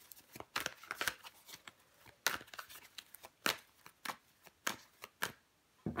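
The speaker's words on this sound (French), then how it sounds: "Je vais recouvrir des cartes." Tarot cards are handled and laid over on a table, making a series of sharp close slaps and flicks in an uneven rhythm with quiet gaps between them.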